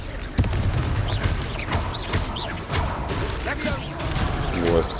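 In the wizarding game Hogwarts Legacy, the Confringo fire spell blasts off in a burst of crackling impacts and booms amid a loud, busy mix of effects.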